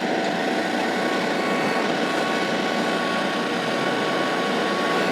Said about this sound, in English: we got a Kubota 39 horsepower tractor, a 6-foot king cutter box blade